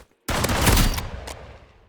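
The shorty shotgun fires once in the game Rivals, a loud blast with a rough, ringing tail that fades over about a second, and a fainter click shortly after.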